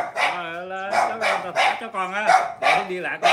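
A dog barks repeatedly at close range, loud sharp barks in an uneven rhythm with brief pauses, heard alone without talk.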